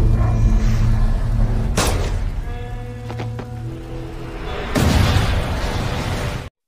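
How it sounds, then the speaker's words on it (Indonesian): Tanker truck exploding in an action film scene, with loud booming blasts and rumbling bursts framing a tonal middle section, close and forceful. "truk tangki meledak dan membakar zombie yang berada di sekitar truk"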